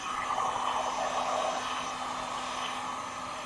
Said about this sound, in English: So I have my heat gun on high air, So it's not going to dry it. but medium low heat.